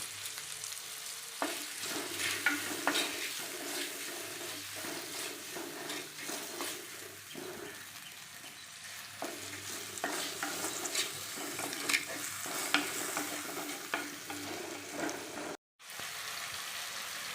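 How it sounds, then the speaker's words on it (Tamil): Tomatoes being mashed with a ladle in a pan of drumstick leaf soup, giving steady scraping, stirring and soft sizzling throughout, close and moderately loud with no talk. "தக்காளி பழத்தை போட்டு நல்லா இப்படி கரண்டியில் நல்லா அப்படி அமுச்சு விட்டிங்கன்னா நல்லா மசிச்சுக்குங்க"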